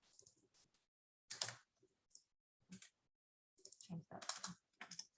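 Typing on a computer keyboard comes in short bursts of crisp clicks and key taps separated by pauses, fairly quiet and close, with no talking over it.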